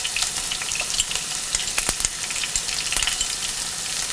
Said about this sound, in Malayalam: വെളിച്ചെണ്ണ ചൂടായി കഴിയുമ്പോൾ ഇതിലോട്ട് നമ്മൾ ചതച്ച് വെച്ചിരിക്കുന്ന ചെറിയ ഉള്ളി